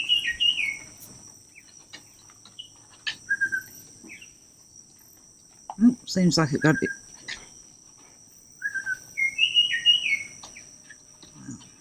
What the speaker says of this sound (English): That is a beautiful bird in the tropics where I am.